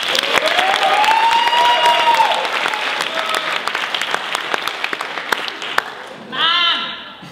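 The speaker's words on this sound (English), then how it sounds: "After a big round of applause." An improv show audience breaks into loud applause mixed with cheers and whoops, a thick, sustained clatter of hands with shouted voices rising over it before it thins into scattered claps and a final burst of cheering.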